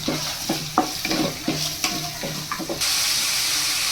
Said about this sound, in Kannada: ಈರುಳ್ಳಿ ಕೂಡ ಹಾಕೊಂಡು ಫ್ರೈ ಮಾಡ್ಕೊತಾ ಇದ್ದೀನಿ